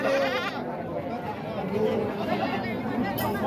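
Goats bleat amid the steady chatter of a busy morning village livestock market where goats and cattle are traded, voices and crowd murmur running continuously throughout.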